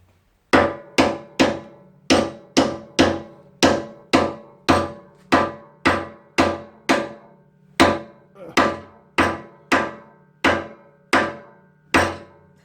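Loud, close metallic hammer blows on a vise strike roughly twenty times at a steady, even rhythm, each ringing briefly before the next.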